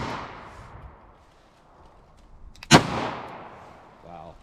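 A Smith & Wesson Governor revolver fires a .410 slug, one sharp loud shot that rings out briefly over faint outdoor background.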